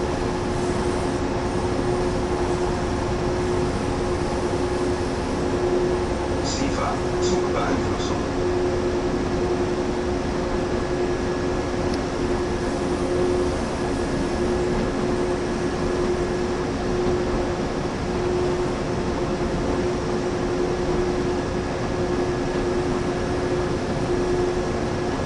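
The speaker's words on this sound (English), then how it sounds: "It picks up speed quite quickly with the two locomotives at the head end." A long freight train in Train Sim World, hauled by two locomotives on the Ruhr-Rhein line, accelerates with a constant low rumble and steady tonal drone, an even, sustained engine sound broken only by a few brief clicks.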